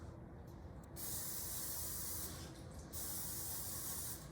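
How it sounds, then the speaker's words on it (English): Cooking spray hisses onto air fryer trays in two steady bursts, the second after a brief pause, a close even aerosol spray with no voices. "take some cooking spray and spray those trays before you put the salmon on them"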